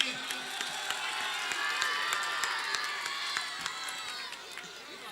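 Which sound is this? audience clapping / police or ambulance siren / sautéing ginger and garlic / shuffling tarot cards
audience clapping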